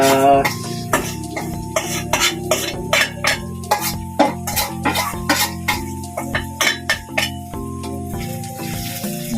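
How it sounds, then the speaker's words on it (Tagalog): Onions hit a pan of browning garlic, crackling under a steady hum while a utensil clinks and scrapes in quick repeated strokes, close and fairly loud. "lalagay na natin yung sibuyas"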